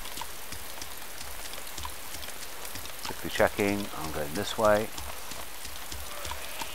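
Steady rain in the DayZ survival game, a constant hiss under the scene while someone talks briefly partway through.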